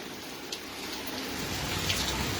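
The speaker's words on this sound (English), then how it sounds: "It's a rainy day here in New Orleans" Steady rain on a rainy day in New Orleans, with flooded streets and blowing wind, falling as a continuous close hiss with a few brighter drip spatters and no voices.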